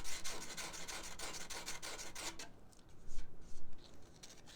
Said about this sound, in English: You can take your sandpaper, just wrap around it, and you can use that to sand them curved areas like that.